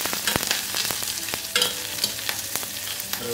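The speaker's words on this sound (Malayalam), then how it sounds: "കറിവേപ്പില ഇടാം, കുറച്ച് മുളകിടാം, കുറച്ച് ഇഞ്ചി. ഇത് നല്ലപോലെ ഒന്ന് വഴറ്റണം." Curry leaves, chili, ginger and onion sauté in a pan: a bright sizzle broken by sharp, irregular spatula clacks against the metal, close up and without talk.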